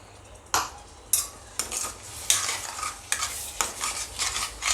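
Spice masala paste with salt and a little water stirring and sizzling in oil over a low gas flame, with repeated spoon scrapes in regular strokes over a steady soft crackle, close and moderately loud.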